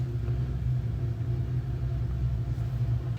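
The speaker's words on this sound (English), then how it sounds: "This next blower supplies the air to the main and orchestral chambers of the instrument." A Wurlitzer theatre organ blower feeding the main and orchestral chambers runs with a steady, loud low-pitched hum and rumble, constant throughout with no voices.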